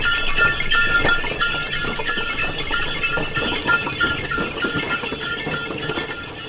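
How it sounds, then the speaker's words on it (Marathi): A bullock cart rolls along with continuous jingling bells, clinking metal and irregular clopping hooves. The sound is busy and fairly close, with no voices. "बैलगाडी"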